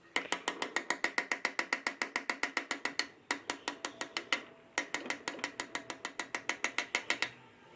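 Light, evenly spaced metallic taps seat a small part into a sewing machine hook assembly, a steady run of close, crisp clicks with two short pauses and no speech.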